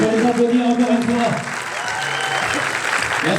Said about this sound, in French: On va les applaudir encore une fois.